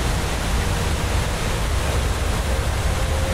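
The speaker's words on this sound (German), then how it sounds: "Direkt am Wasserfall ist ein bisschen blöd. Da hört man ja sein eigenes Wort nicht mehr." A roaring waterfall in Skyrim VR sends a dense, loud, unbroken rush of water noise that fills the scene without any pause or change.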